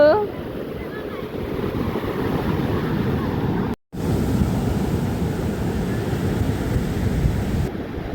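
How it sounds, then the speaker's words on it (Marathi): Sea waves wash onto a Karnataka shore in a steady, loud, continuous roar mixed with wind buffeting the microphone, broken by one brief dropout midway. "आलं पाणी, आलं आलं आलं आलं आलं"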